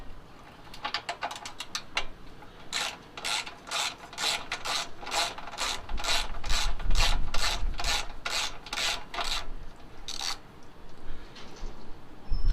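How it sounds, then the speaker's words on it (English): A ratchet loosens small 10mm bolts on a pressure washer: a quick run of light clicks, then about a dozen regular, close rasping strokes, and a final stroke after a short pause. "I'll just take the ratchet off and just use the extension bar now."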